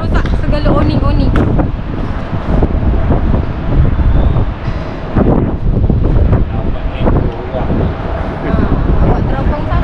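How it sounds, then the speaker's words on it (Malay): Strong wind buffets the microphone with steady, loud rumbling gusts while out on a family trip in Alor Setar, and people talk faintly beneath the roar. "Kuat gila angin."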